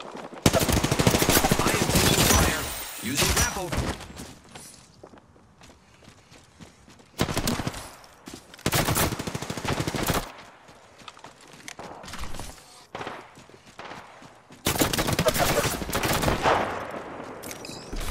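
Bursts of Apex Legends gunfire in a match, loud dense volleys in three separate stretches with quieter gaps of game noise between them.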